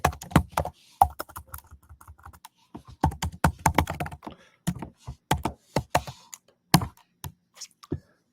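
Someone types on a computer keyboard in quick, uneven bursts of close, crisp key clicks with short pauses between runs.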